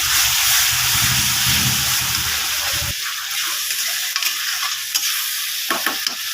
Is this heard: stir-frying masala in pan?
yes